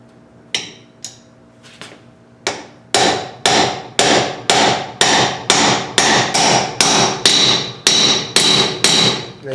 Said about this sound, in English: I'm going to drive this race in now.